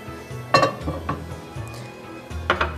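Metal spoon knocking against a frying pan while ghee goes in for a samosa meat filling, a few sharp clinks and scrapes with a quieter clatter between them, close by and without talk.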